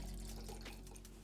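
Water running from a tap into a container while measuring out liquid for black-and-white film developing in a darkroom, a steady soft splashing rush over a low hum, with no voices.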